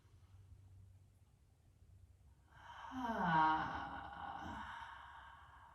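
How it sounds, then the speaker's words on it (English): A long, breathy exhale out through the mouth during a calm yoga breathing exercise, rising after a quiet start and fading slowly, close to the mic, with no talk over it. "Bring your inhale in through the nose and a long exhale out the mouth."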